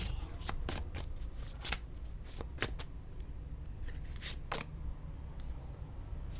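Tarot cards being shuffled and drawn, quick close riffling and snapping card sounds in irregular bursts against a quiet room, with no talking.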